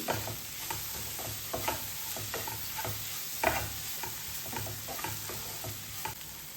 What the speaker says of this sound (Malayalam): ഈ ഒരു പൊടിയുടെ പച്ചമണം മാറുന്നത് വരെ മാത്രം 2 സെക്കൻഡോളം ഒന്ന് ഇളക്കിയെടുത്താൽ മതി.